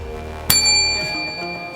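A single bright bicycle-style bell ding, used as a notification sound effect, strikes once and rings out with a long shimmering decay, alone without talk.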